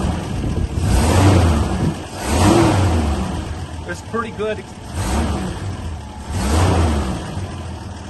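A gasoline FJ45 pickup engine revs up and falls back in repeated swells, close by, with a short spoken remark in the middle.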